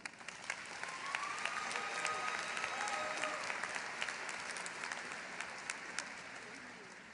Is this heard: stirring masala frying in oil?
no